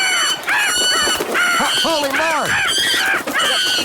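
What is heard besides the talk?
geese and French hens fighting, goose honking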